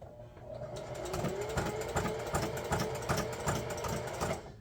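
A sewing machine runs continuously, stitching around a frayed jersey crest, its needle in a fast, even rhythm with a steady motor hum.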